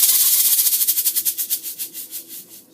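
A shaker imitates a snake's tail rattle with a rapid, hissing shake that gradually slows into distinct pulses and fades, close and fairly loud with no talking.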